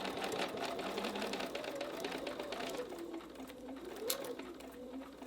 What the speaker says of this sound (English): Let's back stitch that.